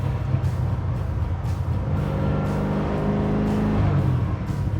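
A 1964 Chevy Biscayne with a 632 big block and Tremec five-speed, driving with a deep, steady engine drone that swells slightly under throttle, heard from inside the car.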